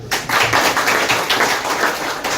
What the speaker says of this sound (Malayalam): ആദ്യത്തെ കൈയടി കൊടുക്കുക